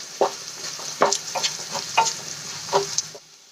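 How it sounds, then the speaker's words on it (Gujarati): Spices, a little masala for a Maggi noodle gravy, sizzle in a hot pan while a spoon scrapes and stirs in several distinct strokes, ending abruptly. "મસાલાને આપણે એક મિનિટ માટે સાંતળી લઈશું"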